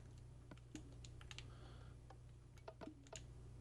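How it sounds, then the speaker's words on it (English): A computer mouse clicks while someone plays Minecraft, clicking on pressure plates. Sharp, close clicks come in scattered single taps and quick pairs over a steady low hum. "Clicking on the pressure plates there."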